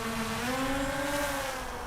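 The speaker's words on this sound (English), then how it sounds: "That's the sound of tiny little drones chasing athletes around the mountain." Tiny camera drones chase Olympic athletes around a mountain, giving off a loud, steady motor buzz with tones that bend and shift slightly in pitch, close and continuous.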